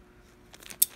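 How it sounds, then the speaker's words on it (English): A single crisp snip of very old scissors near the end, preceded by faint rustling and a couple of softer clicks, close and otherwise quiet. "really old scissors."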